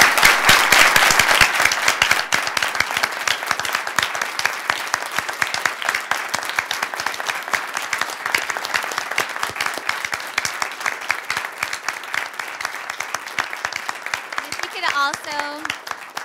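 Sustained applause and clapping from an audience after winners are announced at a law school moot court final round, steady and dense throughout, with a voice speaking faintly near the end.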